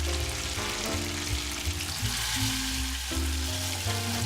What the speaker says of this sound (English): Heat up the pan to high heat, then place the meat in the pan.